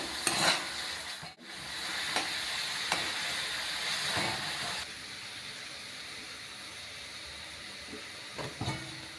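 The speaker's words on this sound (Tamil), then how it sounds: "தக்காளி ஆட் பண்ணி நல்லா வதங்கிக்கலாம்" Tomatoes sautéing in a pan, with a steady frying sizzle and intermittent scraping stirs, heard close and alone.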